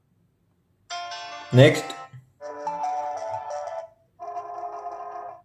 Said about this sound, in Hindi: म्यूजिक जो प्ले हो रहा है वो प्ले हो रहा है आपकी वॉच में।